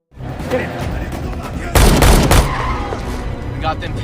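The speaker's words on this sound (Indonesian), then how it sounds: "Agen CIA yang mengawasi Victor dan Azar akan melangsungkan aksinya dalam menangkap mereka, dan terjadilah baku tembak." Gunfire in a film shootout between CIA agents and suspects, with a loud, dense burst of rapid shots over a continuous noisy action soundtrack, preceded and followed by rumbling background effects.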